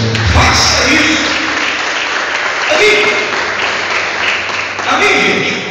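A church congregation applauds loudly and continuously, dense clapping filling the space while a voice speaks over it at times.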